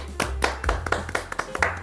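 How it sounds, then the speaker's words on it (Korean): Several sharp hand claps in an irregular burst, fairly close, over a low hum. "오늘도 박수로 시작합시다."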